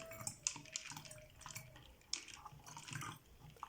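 Water is poured from an iron's water cup into the tank of a combined night light and humidifier, giving soft, faint trickling and dripping with small splashes.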